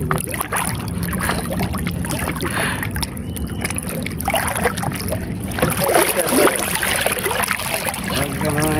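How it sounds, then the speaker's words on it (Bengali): A small wooden dinghy on a river, with water lapping and trickling against the hull and a steady outdoor wash of wind and flowing water throughout, plus faint scattered voices. "আমাদের হাবিবকে একটা দায়িত্ব দেওয়া হয়েছে ডিঙি নৌকার পানি আসার জন্য।"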